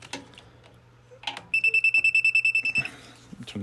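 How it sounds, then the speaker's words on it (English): A handheld electrical tester beeps near live power while a heat press is being fixed, giving a quick run of about fifteen evenly spaced, bright electronic beeps, loud and close, between faint handling noises. "you heard the beep, so if there's electric in there, like there is right now, it'll go off"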